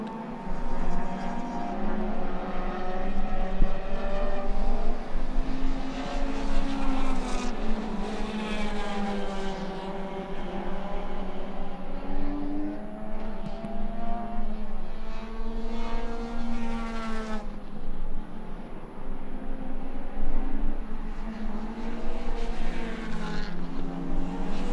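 Race cars in a close pack on a circuit during a motor race, engines roaring steadily for the whole stretch as they pass and rev, loud and continuous with gear-change pitch sweeps and no talk.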